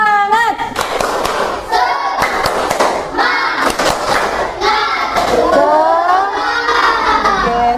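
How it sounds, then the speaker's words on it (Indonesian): A primary school class does a rhythmic spirit clap, tepuk semangat, at the end of an Indonesian lesson. Children clap together in sharp patterned bursts mixed with loud chanting and shouting voices, filling a noisy classroom. "yang terakhir tepuk semangat"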